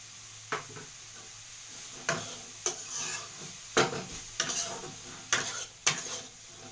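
Carrots for carrot halwa cook in a pan, with a faint low sizzle under repeated scraping strokes of a utensil stirring against the pan, several distinct knocks spaced roughly every half second to second, fairly quiet and close.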